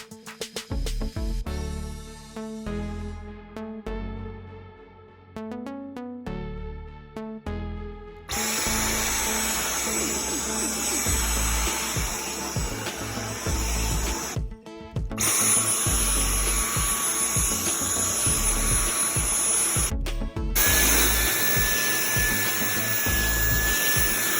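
A Dyson Outsize vacuum cleaner runs on its boost setting, giving a loud, steady motor whine with a broad airflow roar that ramps up partway through and stays near and constant.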